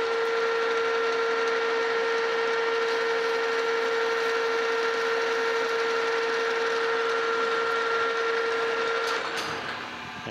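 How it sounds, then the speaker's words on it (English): A metal lathe chamfers the edges of a steel change gear blank, a loud steady machining whine with a sustained tonal ring that holds evenly, then eases off as the cut ends. "Just come in here and put a nice little chamfer on both sides."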